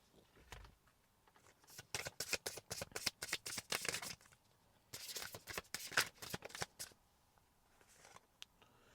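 Wicca Oracle cards being shuffled by hand, close riffling bursts in two long runs separated by a short pause, quiet room and no talking.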